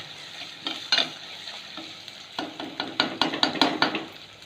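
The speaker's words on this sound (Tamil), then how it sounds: "ஒரு 5 செகண்டு நல்லா வதக்கி விடும்" Sliced onions and white snake gourd sizzle in a hot pan while a spoon scrapes and stirs them in quick, repeated strokes. The frying hiss runs steadily underneath and grows busier toward the end.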